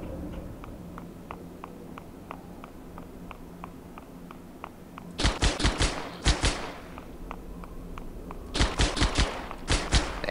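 Light machine gun fire in the Halo SPV3 video game, two rapid bursts of sharp repeated shots cutting over a quieter backdrop of ticking game ambience and low hum, loud and close.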